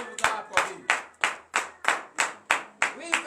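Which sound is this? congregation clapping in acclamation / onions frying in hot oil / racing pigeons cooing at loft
congregation clapping in acclamation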